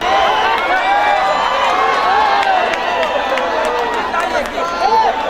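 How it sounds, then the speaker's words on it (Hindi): An audience at a mushaira in Kishanganj claps and cheers loudly and continuously, a thick wall of crowd noise with scattered shouts and voices mixed in. "अगर आप मेरे बिना कुछ पढ़े ही तालियां बजाना चाहते हो तो बजाते रहिए"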